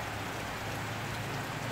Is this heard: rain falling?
yes